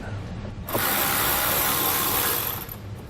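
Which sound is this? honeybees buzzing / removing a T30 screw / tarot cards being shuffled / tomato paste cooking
removing a T30 screw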